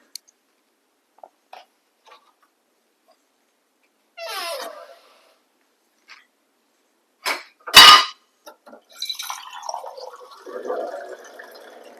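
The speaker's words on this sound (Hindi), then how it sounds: "चलो मैं थोड़ा पानी पी लेता हूँ।" A teacher pausing a Hindi-language maths lesson to drink water: scattered small clicks, a gulp-like burst, then a sharp clatter and rustling as the cup or bottle is handled, close and otherwise quiet.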